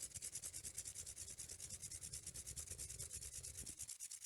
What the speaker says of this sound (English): Let's rub the fingernails together. Let's go to our knuckles.